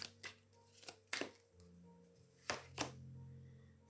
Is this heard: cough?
no